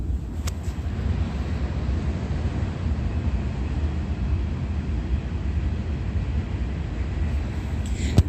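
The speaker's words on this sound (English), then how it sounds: "that is supposed to be the sound of the train actually running on the tracks" A train rolls along railroad tracks at night, heard as a steady low rumble and roar that holds evenly throughout, fairly loud with no voices and only a couple of faint clicks.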